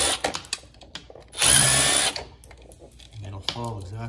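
A power drill backs out the screws on an electrical outlet: one loud, close whirring burst of under a second, with quieter handling clicks and talking before and after.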